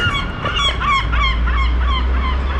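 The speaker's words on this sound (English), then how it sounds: "You can see there's loads of seagulls around here as well" Seagulls call repeatedly around an apartment pool in Portimão in the Algarve, Portugal, with a series of loud, close, honking cries over steady background rumble.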